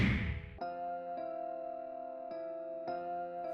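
Bright notification bell dings ring out five times in an uneven sequence, each strike clear and ringing with a short sustain, with no talking.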